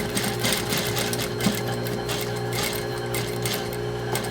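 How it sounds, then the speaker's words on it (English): A sewing machine top stitching the waistband of jeans runs continuously at a steady fast pace with a loud, even mechanical whir and rapid needle chatter, heard close and alone. "the last spot that I'm going to do before I put on the loop is top stitch the top of the waistband"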